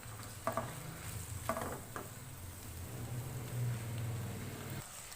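Finely chopped small onion being stirred in a hot pan, with sizzling frying and a few sharp utensil scrapes over a steady hiss, close and moderately loud with no talking.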